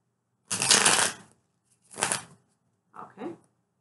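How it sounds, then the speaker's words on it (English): Two quick bursts of riffling tarot cards, a long one then a shorter one, followed by a couple of soft taps, close and fairly quiet. "One more shuffle."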